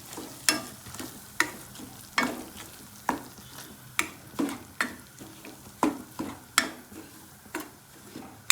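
Semolina, maida and rice flour being dry-roasted and stirred in a pan for kodubale: a steady series of close, sharp scraping strokes, roughly one or two per second, over a soft dry rustle, with no voices.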